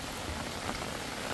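Heavy rain pouring onto a street during a storm in El Salvador, a faint, steady hiss of dense falling water with no voices.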